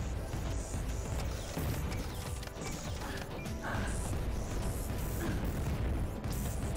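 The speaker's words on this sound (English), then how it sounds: "God, there's explosions everywhere." Continuous dense crashing and rumbling from explosions in the video game Black Ice, a steady wash of overlapping blasts and debris with no clear pauses and no speech.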